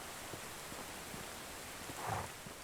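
Rain falling in the medieval village survival game Medieval Dynasty, a faint, steady hiss with a soft rumbling swell near the end.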